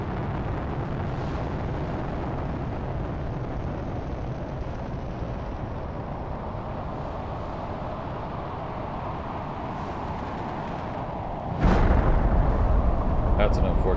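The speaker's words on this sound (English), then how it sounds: "There she goes. Salute, everybody. There goes our first rocket." The first rocket lifts off into space in the video game Planet Crafter, a steady, loud, broad roar that holds for a long stretch and then surges louder near the end.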